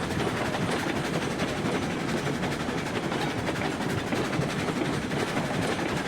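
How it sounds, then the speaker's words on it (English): A freight train rolls steadily along the track in the railroad simulation game Railroads Online, a constant loud rumble with a faint rhythmic clatter throughout and no pauses. "I need to turn the train around."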